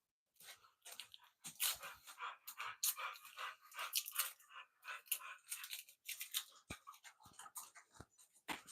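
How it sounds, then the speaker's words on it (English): Dogs moving about a home kitchen: busy, irregular crunching, scuffling and biting noises, close and fairly quiet, with brief whimpers in between and no talking. "Get out of the kitchen, dogs."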